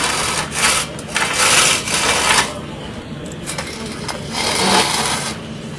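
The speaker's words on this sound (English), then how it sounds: "What we like to do is scrape away the material" A tool scrapes clay material off a baseball pitcher's mound in repeated loud, gritty strokes that swell and fade, with short pauses between passes.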